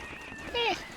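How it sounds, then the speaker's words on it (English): A beefalo in Don't Starve gives a single short, faint, snorting animal call, a brief lowing grunt in a quiet game scene. "We have potential beefalo over here."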